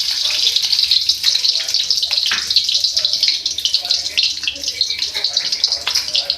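Onions hissing and sizzling in half a cup of hot ghee for a dal tempering, a loud, steady bright crackle that runs throughout.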